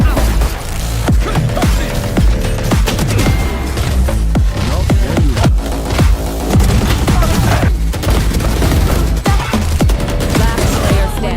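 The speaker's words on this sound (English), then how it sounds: "Bomb grenade out." Bomb grenade detonation during a VALORANT tournament match, amid dense gunfire: a loud, chaotic barrage of sharp bursts and booms, repeated impacts over ongoing combat noise and faint voices.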